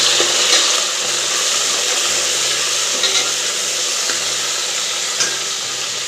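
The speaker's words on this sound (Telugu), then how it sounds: "ఇవన్నీ నూనెలో మంచిగా ఫ్రై కానివ్వాలి" Onions, green chillies and ginger paste fry in hot oil for a Telangana mutton curry, giving a steady, close sizzle with occasional soft stirring bumps throughout.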